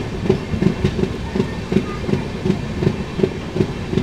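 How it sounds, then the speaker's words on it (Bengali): Kanchankanya Express rolls into Mal Junction after Siliguri, its wheels beating a steady, evenly spaced clickety-clack over the rails under a constant low rumble, close and moderately loud. "শিলিগুড়ি ছাড়ানোর পরে মাল জংশন এখন ট্রেন ঢুকছে"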